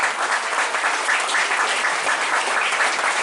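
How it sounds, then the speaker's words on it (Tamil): Students and guests clapping at a school awarding ceremony at Alankuda Muslim Maha Vidyalaya in Puttalam, a dense, steady wave of applause from a crowd that holds at full strength throughout with no voices on top. "எங்கே உங்களுடைய கரகோஷங்கள்?"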